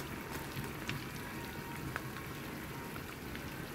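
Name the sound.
deep frying minced pork and carrots until brown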